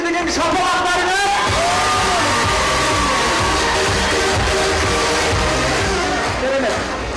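Loud, continuous roar of an audience cheering, whooping and clapping at a student spring festival concert at Korkyt Ata university, a dense crowd noise sustained without pause.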